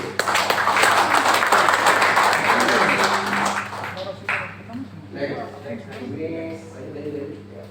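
Audience clapping for a municipal civil service police chief during a military presentation session in Jayapura, Papua. Dense clapping fills the first few seconds, then fades into scattered claps as a voice begins talking.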